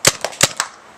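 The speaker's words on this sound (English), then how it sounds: "He's going to fire two shots." Four sharp, snappy pops in quick succession from a paintball gun at a paintball field, close and loud, each a short crack followed by a brief fade.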